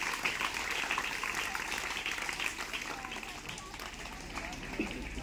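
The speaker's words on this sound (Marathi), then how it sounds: "त्याबद्दल टाळ्या वाजवून त्यांचं स्वागत करायचं आहे सरांचं" Schoolchildren and staff at a Raksha Bandhan school function clap steadily to welcome the headmaster. The applause is moderately distant and continues evenly throughout, with faint voices underneath.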